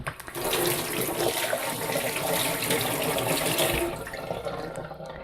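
A lemon is rinsed under a running kitchen tap, with a steady close splash of water hitting the fruit and sink for several seconds before the flow quiets and shuts off, with no voices.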